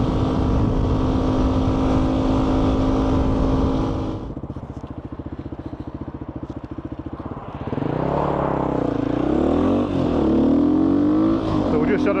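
GPX FSE250e motorcycle cruising at about 50 mph on a national speed limit road, a loud steady engine drone with rushing wind, briefly dropping quieter midway before a rising engine note returns, with a rider talking over it.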